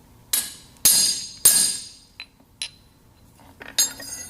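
Several sharp metallic hammer taps ring out close and clear, three strong strikes followed by a few lighter ones, as a carbide stud is set against an anvil, with no talking.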